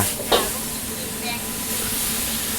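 Morning glory and crispy pork stir-frying in a wok, a loud continuous sizzle and hiss with a clanking stir near the start, close to the listener.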